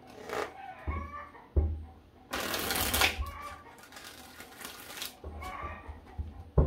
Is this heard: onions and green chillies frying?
no